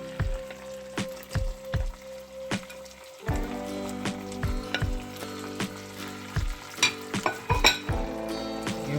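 Vegetables sizzle and get stirred in a hot pan for a ginger pork noodle stir-fry. A utensil scrapes and clanks in a steady rhythm, and the sizzle grows louder and fuller partway through, close and with no talking.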